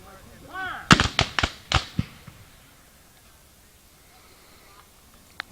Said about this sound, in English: Union's going to fire again.